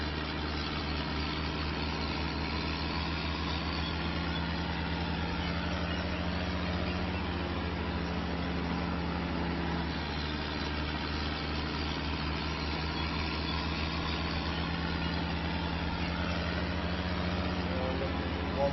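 Old tractor engine in Farming Simulator 25 drones steadily at a low idle-like rumble for the whole stretch, constant and close with no breaks.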